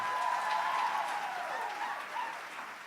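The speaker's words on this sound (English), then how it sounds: "I need for you to applaud these women for speaking and telling their story right now" Audience applause at an International Women's Day tech event in Toronto, a steady wash of clapping heard from a distance that slowly fades.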